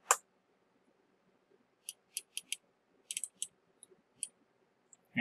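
Computer mouse clicks at a desk while submitting an article in article-rewriting software, a scattered series of short, sharp, quiet clicks, some in quick bursts, with near-silence between.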